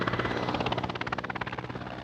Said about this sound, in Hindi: एक सीक्रेट एयरबेस से जंग के लिए उड़ान भरता एक जंगी हेलीकॉप्टर